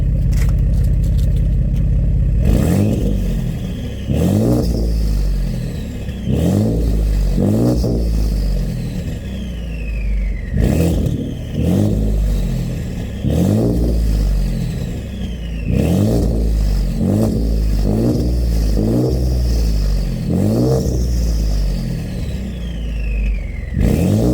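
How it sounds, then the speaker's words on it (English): A Ford EcoBoost car engine with a custom exhaust revs repeatedly, rising to a roar and dropping back over and over, its loud exhaust burbling between blips, close by. "I really do like the idle sound, but let's hear what it sounds like with some revs"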